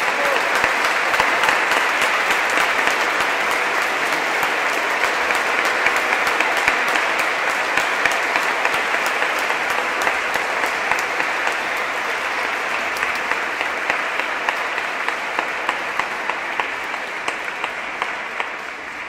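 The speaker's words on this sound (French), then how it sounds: "on pourra applaudir la petite chorale des petites voix du plateau" A congregation at a Christmas Eve mass applauds a small children's choir, producing a steady, dense wash of clapping that fills the church and tapers slightly toward the end.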